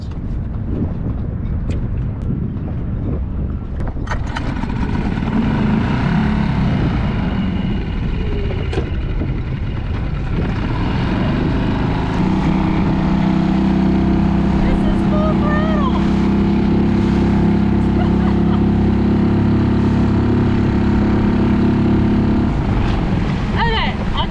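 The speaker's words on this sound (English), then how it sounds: "The donut test a 2 out of 10 on this little Yamaha 4 horsepower." A small Yamaha 4-horsepower outboard motor pushes a little boat through tight donut turns, its steady drone running throughout, loud and close, with wind and water noise; someone talks over it in the first half.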